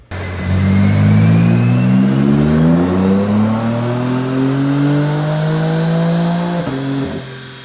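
Loud, close BMW engine with a Bootmod3 off-the-shelf map and flex fuel running E20 ethanol, revving hard on a dyno: a steadily climbing pull that holds high, then a sharp drop near the end with the revs falling away.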